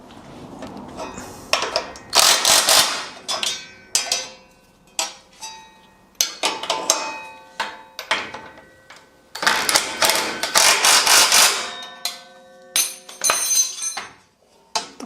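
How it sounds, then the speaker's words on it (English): An impact wrench rattles the brackets on a winch bumper tight, firing in several short and longer bursts separated by quiet pauses, close and loud with no talking. "I'm just going to rattle them up with the nut gun"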